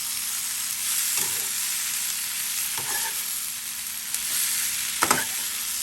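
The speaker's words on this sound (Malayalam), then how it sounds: "നമുക്കിത് നന്നായിട്ടൊന്ന് ഇളക്കിയതിന് ശേഷം ലോ ഫ്ലെയിമിൽ ഇട്ടിട്ട് നമുക്ക് അടച്ച് വെച്ചിട്ട് കുക്ക് ചെയ്യാം" Ivy gourd (kovakkai) fries in a pan with a steady loud sizzle, broken by three or four scraping stirs at intervals, no voices.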